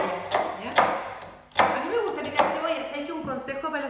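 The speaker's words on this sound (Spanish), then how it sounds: "Consejo para la cebolla cuando la estamos picando" An onion is chopped with a knife on a board, a series of sharp, close chopping strikes in an irregular rhythm, with a short pause midway.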